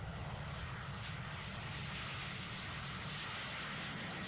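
Concorde 002 supersonic jet taking off, a faint, steady, distant roar of jet engines with no break.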